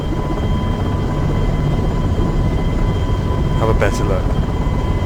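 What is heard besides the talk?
helicopter in a flight simulator video game (FSX/P3D)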